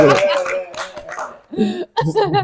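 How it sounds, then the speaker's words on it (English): A few people clap their hands briefly and loosely while voices talk and laugh close by. "Let's clap for him, man."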